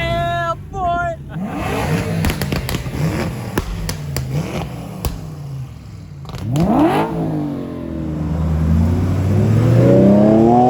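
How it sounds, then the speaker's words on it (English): A modified, non-stock Lamborghini V10 engine revs loudly and up close in sharp blips, then a long climbing surge, with people talking excitedly between the revs. "That's what not stock sounds like on a V10."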